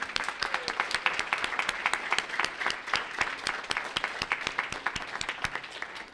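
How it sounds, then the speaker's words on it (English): An audience at a school board meeting applauds parents, a moderate, steady patter of many hands clapping at some distance for several seconds. "we're going to do a round of applause for parents"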